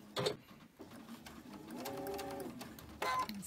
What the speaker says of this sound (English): We're going to chain stitch all of these.